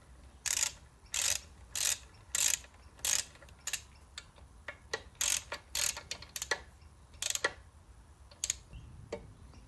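A ratchet clicks in repeated short bursts as a bolt is tightened on a Yamaha gearbox, each burst a quick run of close, crisp pawl clicks separated by brief pauses, with no talk.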